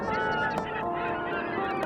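A goose honks in a sound effect: dense, continuous nasal honking that fills the whole short stretch, loud and close with no pause.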